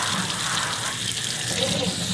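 Water from a kitchen tap runs steadily over an old wooden cutting board being rinsed clean, a continuous close splashing wash with no pauses.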